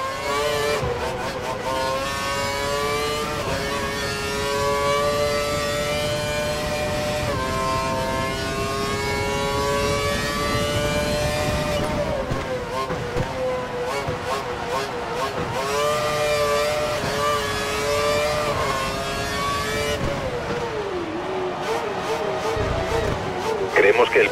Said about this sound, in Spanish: el motor al máximo de revoluciones para recortar de tiempo